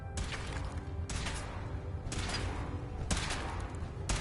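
Weapon fire in Fallout 4 during a suit test, heard as four evenly spaced sharp bursts about a second apart, each decaying quickly over a steady low rumble.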